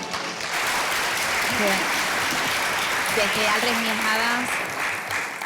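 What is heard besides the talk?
audience applause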